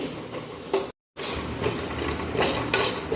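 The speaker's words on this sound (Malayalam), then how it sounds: "ഈ തേങ്ങ ഇനി ചുമക്കെ വറുത്തെടുക്കണം" Grated coconut roasts in a pan over a medium flame for Kerala shallot theeyal, with a steady stream of scraping spatula strokes, light clinks and a soft sizzle, close and continuous apart from a brief silent gap.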